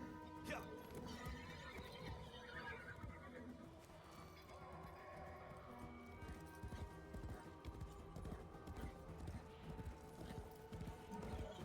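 A horse in Warframe whinnies and gallops in rapid clip-clop rhythm, the hoofbeats continuous and fairly faint under game sounds, with a player's voice talking over it.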